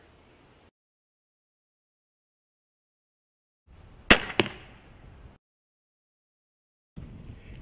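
A hunting bow's shot: a sharp double crack of release, then a brief rattling decay, with a faint low rumble before and after.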